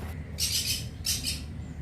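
Black-capped conure parrots newly bought at a bird market chirp in their cage, two sharp, close, shrill squawking bursts in quick succession.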